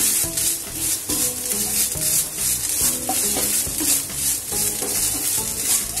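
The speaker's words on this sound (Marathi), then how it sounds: "आता 1 चमचा तूप टाकले. आता आपण खोबरं घालूया." Grated coconut stirred in a spoonful of hot ghee, a steady close sizzle with repeated scraping strokes of a spoon in a pan, no voices.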